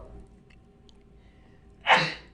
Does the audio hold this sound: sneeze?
yes